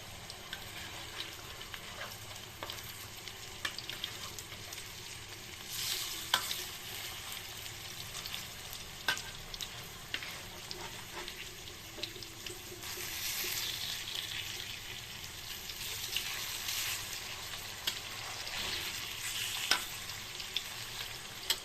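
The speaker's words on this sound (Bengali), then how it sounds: "তাহলে এই পিঠটা ভাজা হয়ে গেছে উল্টে দিয়ে ওই পিঠটা ভাজবো" Onion pakoda (peyaji) fry in hot oil and get flipped to cook the other side, giving a steady, close crackling sizzle with scattered sharp pops and occasional clinks, and no talking.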